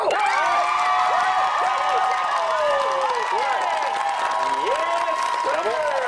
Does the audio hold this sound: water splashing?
no